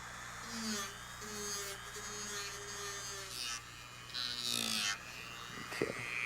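Polishing wheel grinding molded nose pads off the back of an eyeglass frame, giving a steady motorized hum with a faint buzzing edge that shifts slightly as the frame is worked against it.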